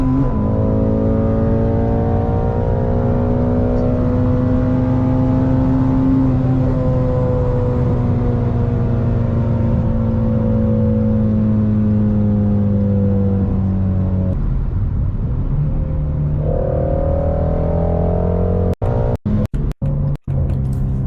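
A big American muscle car V8 engine revs and idles with a deep, throaty rumble, rising and falling in pitch, ending in a few sharp crackling pops.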